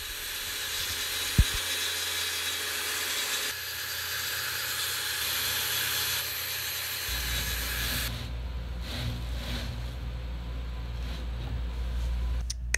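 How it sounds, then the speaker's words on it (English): A power saw set to a shallow depth scores coosa board panels on a boat's bow deck during re-coring, giving a steady loud whine with a brief sharp knock early on, then a lower drone later. "I've got the saw set at a 10mm depth"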